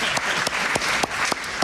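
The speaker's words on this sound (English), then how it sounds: "clap for yourselves" A group of families applauds together at a White House gathering, a dense, steady burst of clapping with a few sharper individual claps standing out, close and fairly loud throughout.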